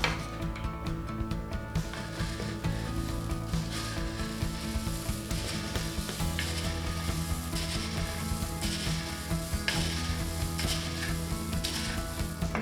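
Brown rice cereal is stirred into a thick binder, giving a continuous crackling, rustling texture with scraping strokes that stay close and steady throughout, with no talking.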